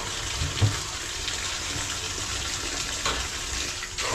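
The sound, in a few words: water being poured for cooking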